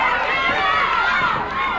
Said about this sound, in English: Crowd partisan for Lawler, obviously. Trying to cheer him on and get him going